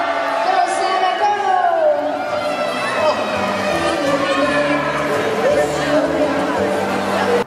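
A crowd cheers and chatters for Santa Claus at a Christmas event, a continuous loud hubbub of voices with whoops rising throughout.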